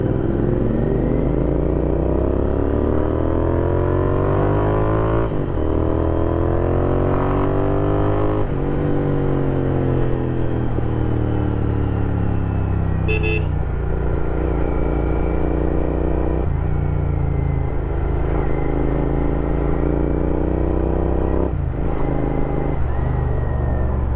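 Loud Kawasaki Z900 and ZX-10R superbike engines rev and roar continuously at a university bike meet, their pitch repeatedly climbing and dropping as throttles open and ease off, close by.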